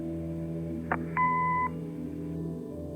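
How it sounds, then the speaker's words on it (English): An answering machine in the video game Kathy Rain gives a short click followed by a steady electronic beep lasting about half a second, loud and clear over a low constant background hum. "Leave a message after the beep."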